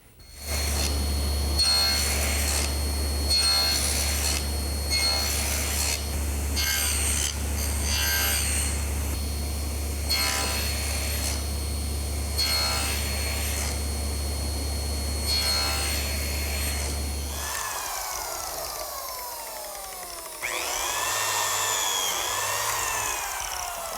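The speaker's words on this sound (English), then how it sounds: "I've just finished cutting some slots in both side pieces for these compressed beechwood biscuits." Compressed beechwood biscuit slots being cut into wooden side pieces for a Shaker step stool, a steady loud machine whine with a deep hum and repeated cutting passes, then a brief quieter stretch of scraping and squeaks near the end.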